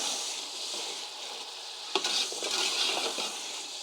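Peas frying for matar pulao hiss in a steady, fairly loud sizzle, with one sharp spoon knock partway through followed by gentle stirring scrapes.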